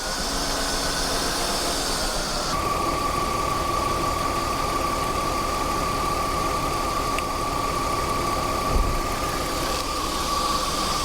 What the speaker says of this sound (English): But the engine works